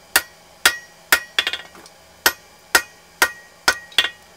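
A round face hammer strikes hot metal being forged into a slender point, ringing sharply in evenly spaced blows, with one quick flurry of lighter taps partway through.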